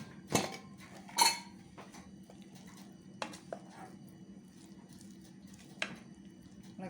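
A pressure cooker lid is opened after the steam has been let out, with cooked yam and plantain inside: a few sharp metallic clinks and clanks, quiet and sparse against a soft background.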